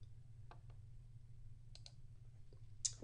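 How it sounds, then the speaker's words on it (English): A computer mouse clicks a few times, sharp and close, against a quiet room hum while a file is opened. "click on it, and then hit Open"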